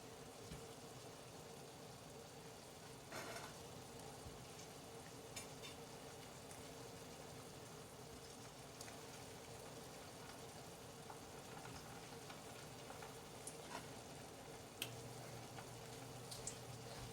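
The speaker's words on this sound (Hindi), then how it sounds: "इनको बिल्कुल धीमे ऑयल में डालेंगे" Gulab jamun balls fry slowly in oil over low heat, giving a steady, quiet sizzle and soft bubbling that runs unbroken and even, with a few faint clicks and knocks of utensils now and then.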